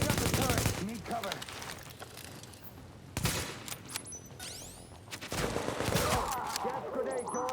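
Rapid bursts of turret gunfire in a video game, sharp repeated shots in several volleys with whizzing and pinging effects, fairly loud, with voices talking in between.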